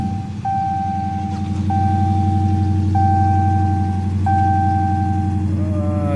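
A Dodge Challenger or Charger with a 5.7 or 6.4 V8, just repaired for a cylinder misfire, idles steadily with a deep even throb, close up, while a tone chimes several times at regular intervals over it.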